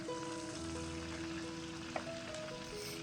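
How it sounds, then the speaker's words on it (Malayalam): Garlic sliced lengthwise frying in oil in a pan, a steady soft sizzle with a brief crackle near the middle, continuous and fairly quiet, with a faint tonal hum behind it. "ഒരു നാല് എല്ലി വെളുത്തുള്ളി നീളത്തിൽ അരിഞ്ഞതിട്ടിട്ട് മൂപ്പിക്കണുണ്ട്"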